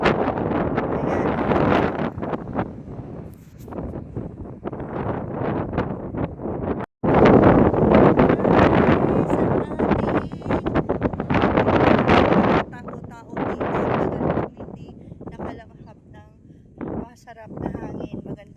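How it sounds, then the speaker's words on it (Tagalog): Strong sea wind by the shore near a tower at a seafood market in Doha, with fishing boats nearby, buffets the microphone in loud gusts under someone talking. "Masarap na hangin, magandang hangin dito"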